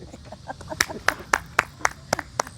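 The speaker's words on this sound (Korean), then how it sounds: "저 사모님 박수 한번 주시죠." A few people clap at a golf putting lesson, with about eight sharp, separate claps at an uneven pace over low background sound.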